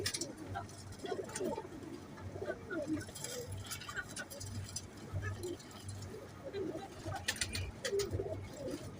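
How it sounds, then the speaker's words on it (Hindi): Teddy and Sialkoti pigeons, a paired male and female, coo softly and repeatedly amid faint background noise, with someone talking at times. "ये 35 वाली फीमेल है और टैडी मेल है"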